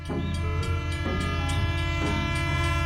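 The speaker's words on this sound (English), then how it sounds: "a peaceful morning as the train glides beneath the dirt bridge" Cartoon train passing beneath a dirt bridge: a steady, loud rumble with sustained horn-like tones, and short bright toots recurring about once a second throughout.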